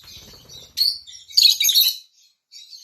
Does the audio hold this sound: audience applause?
no